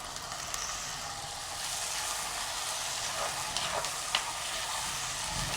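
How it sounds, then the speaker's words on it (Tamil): Curry leaves sizzling in hot oil with chopped tomato for a pepper rice dish, a continuous loud hiss of frying with a few sharper crackles near the end. "அதோடு வந்து தேவையான அளவு கருவேப்பிலை சேர்ப்போம்."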